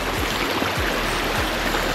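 Stream water flowing beside a hiking trail on Mont Mégantic in Quebec, Canada, a steady, close, continuous rushing wash with no voices.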